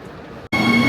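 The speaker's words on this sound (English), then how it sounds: "There is the train directly to Jerusalem." Electric passenger train standing at a station platform on the direct line to Jerusalem: after a brief silent gap, a loud, steady mechanical hum with a sustained tonal whine fills the space.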